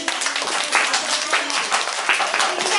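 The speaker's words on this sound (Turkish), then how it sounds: "Evet alkışlar arkadaşlarımızı" A room of people claps for children at a school event at Şehit Ali Gaffar Okkan, brisk steady applause filling the whole moment, close and loud.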